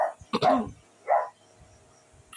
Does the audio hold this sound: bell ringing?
no